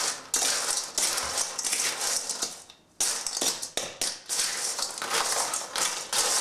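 Ice and salt are stirred together in a bowl, giving a loud, continuous crunching and scraping of ice chunks against the bowl with a brief pause partway through.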